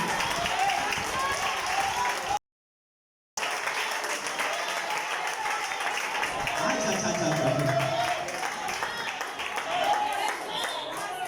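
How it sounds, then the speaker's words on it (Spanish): Church congregation claps in a steady, dense roar of applause, with voices mixed in and one brief dropout partway, the crowd noise swelling and continuing to the end. "Si va a aplaudir, hágalo con ánimo."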